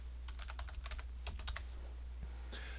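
A computer keyboard being typed on in quick close bursts of crisp clicks, a short pause, then a final few keystrokes over a low steady hum.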